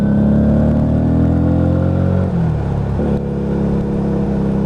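Lexmoto Vendetta 250cc motorcycle exhaust at close range, a loud steady drone that dips sharply as the throttle closes, then picks back up, with small pops and crackles on the overrun.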